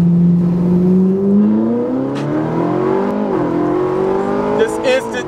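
A Ferrari 458 Italia accelerates hard from inside the cabin, its engine climbing steadily in pitch through a gear, briefly dipping at a shift, then pulling again loud and close, with voices over it near the end.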